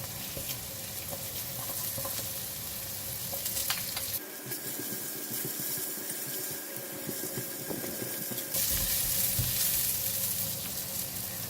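Yellow onions frying in a pan for salted fish fried rice, a steady close sizzle that shifts in texture midway as the food is stirred, with no voices.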